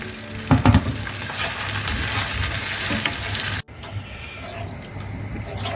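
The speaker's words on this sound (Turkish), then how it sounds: "Ben dilediğim domatesleri ilave ediyorum." Tomatoes dropped into a hot pan for penne arrabbiata, a sharp burst of sizzling and frying hiss with stirring clatter, close and steady before a brief cut and a quieter sizzle.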